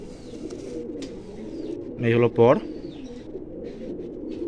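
A pigeon in a loft coos low and steadily in the background while someone speaks briefly over it.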